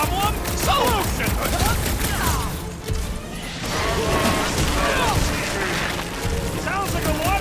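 Rapid bursts of gunfire and crashing impacts rattle through a firefight in the Marvel's Guardians of the Galaxy game, with characters shouting and bantering over the near-constant shooting.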